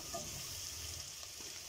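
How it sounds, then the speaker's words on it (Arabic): Vegetables sautéing in a pot as the base for lentil soup give a steady, quiet sizzle with soft hiss, continuous and close, with no talking. "نقعد نشوح فيهم يا حبيبي شويه كده"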